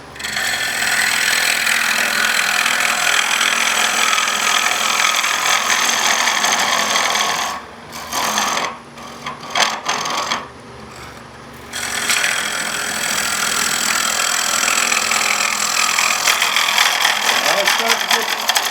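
Gouge cutting a natural-edge wood bowl on a lathe over the tool rest, a loud continuous rushing shear that drops away briefly in the middle with a few knocks, then resumes.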